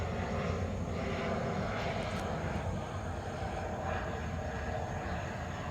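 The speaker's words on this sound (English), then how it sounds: "there comes the plane in." An airplane comes in to land near an outdoor playground, its engine drone a steady, fairly loud roar that holds through the whole clip with slight swells, and no voices are heard.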